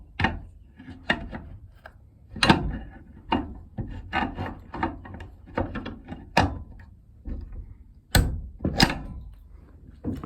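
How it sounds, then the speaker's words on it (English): A torque wrench tightens the barrel nut on an AR-15 upper, giving repeated scraping, ratcheting strokes and knocks in an irregular rhythm, close and fairly loud, with no talk. "we're gonna take our torque wrench, we're gonna torque it to 30 inch-pounds"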